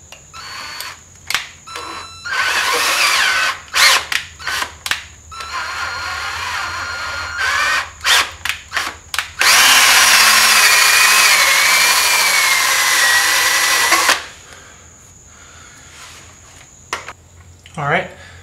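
Drill boring out a broken dog leg bolt on a Farmall Cub tractor, whining in several short bursts and then one long steady run before stopping, close and loud, with pauses between.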